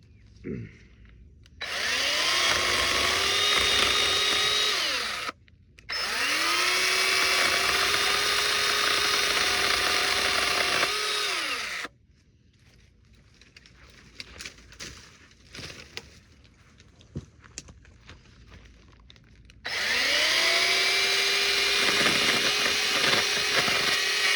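Kobalt 24V pruning chainsaw revving at full speed: two long, loud sustained whines with rising and falling pitch, a quiet gap of faint clicks and handling noise, then a third burst starting up near the end.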